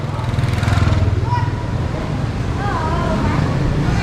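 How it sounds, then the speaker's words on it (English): Loud, busy street traffic in Hanoi, Vietnam, with buzzing moped engines passing close by and a continuous roar of motors filling the scene. "it's very loud and there are lots of mopeds everywhere"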